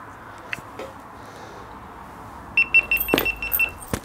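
Keys jangle in short metallic bursts near the end, close by in a quiet workshop, following a few faint handling clicks.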